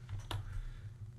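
A single faint click of a computer keyboard key being pressed in a quiet room, heard once and alone.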